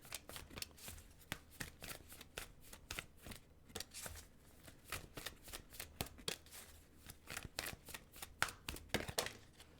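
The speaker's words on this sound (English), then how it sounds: "Let's see here if we can pull a couple additional cards here" Tarot cards shuffled for a reading, with a rapid series of crisp riffling bursts and card slaps repeating closely through the whole stretch, moderately loud and near, with no voices.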